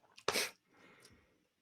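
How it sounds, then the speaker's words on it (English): A single sharp sneeze bursts out close up after a brief inhale, followed by a faint trailing breath or murmur, with no other speech. "Thank God, just sneezed."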